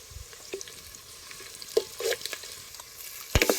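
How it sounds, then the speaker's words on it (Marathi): Onion browning in oil in a pan over a wood-fired stove, with a soft background sizzle broken by occasional scraping stirs and a sharp clank near the end, close by and without voices. "आता लालसर ओसर असा कांदा चांगला भाजून घ्यायचा"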